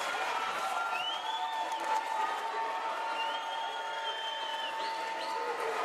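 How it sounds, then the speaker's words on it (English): A packed arena crowd at a high school basketball playoff game roars steadily with cheering, screaming and stomping feet, a dense continuous wall of noise with whistles rising above it. "You can hear them screaming and stomping their feet here."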